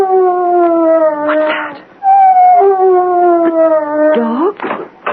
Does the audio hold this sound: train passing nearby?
no